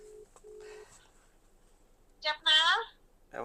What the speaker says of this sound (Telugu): ఇప్పుడు రింగ్ అవుతుంది